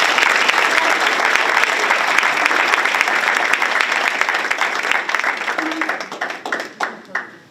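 Sustained audience applause at a school board meeting, loud and dense from the start, then thinning into scattered claps that fade out near the end.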